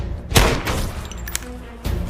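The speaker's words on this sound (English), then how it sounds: "That was definitely gunfire." Gunfire in an action film scene: a few sharp, loud bursts spaced irregularly over two seconds, each with a booming low-end thump and a brief rumbling tail.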